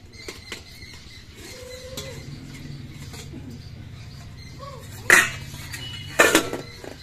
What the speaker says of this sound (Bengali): তিন চার মিনিট পর আমি ঢাকনাটা খুলে নিচ্ছি।